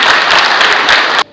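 Audience applause welcoming guests onto the stage at a theatre group's 35th anniversary and birthday celebration, a dense, loud wash of many clapping hands that runs steadily and then cuts off abruptly near the end.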